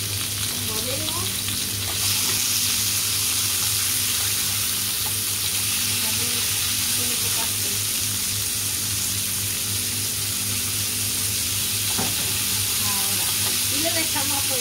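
Chicken and potatoes sizzle steadily in a hot pan while being stirred with occasional scraping, a continuous loud frying hiss throughout with no talk.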